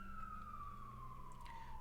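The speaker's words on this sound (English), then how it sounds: "I live in Brooklyn, so there's lots of sirens, so be aware" Emergency vehicle siren on a Brooklyn street, a single steady tone slowly falling in pitch, heard at a distance indoors over a low background hum.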